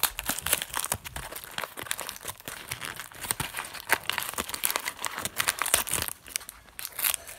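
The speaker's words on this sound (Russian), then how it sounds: "Теперь открываем сам шарик." LOL surprise ball packaging torn open by hand, repeated sharp crinkling and ripping bursts of plastic and paper in an uneven rhythm, close and fairly loud with no talking.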